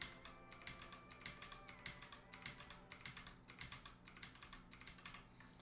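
Computer keyboard keys pressed in quick clusters of clicks and taps, Control J shortcuts and arrow keys while working in Photoshop, close and fairly faint, with no talking.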